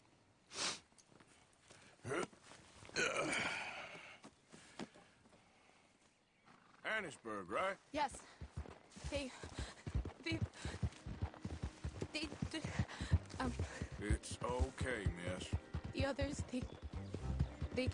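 Horse hooves clip-clop in a steady rhythm in Red Dead Redemption 2, alongside snorts and a whinny, with voices talking over parts of it.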